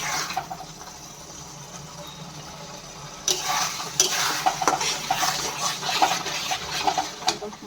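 Mutton with masala fries in a pot, a soft sizzle at first, then louder scraping and clattering as a spoon stirs it close by, steady and continuous without talk.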